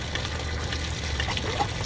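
Brown, rusty hard water pours steadily from a pulled camper tank handle, a continuous close splashing flow running alone for a couple of seconds.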